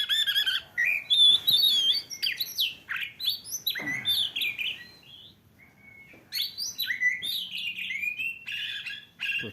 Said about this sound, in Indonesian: Yoh nonton itu burung untuk kucing.